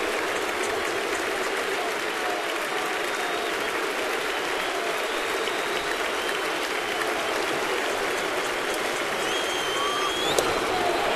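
A large crowd at Yankee Stadium during a 2009 ALDS playoff game applauds and cheers in a steady, dense roar from a distance, with faint commentary underneath.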